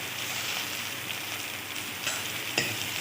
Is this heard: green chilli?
yes